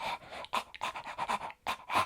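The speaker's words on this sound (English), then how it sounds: "you start hearing that familiar breathing" Creepy, close breathing from the survival horror game Resident Evil 4 Remake, a steady run of raspy, rhythmic panting breaths heard alone without talk.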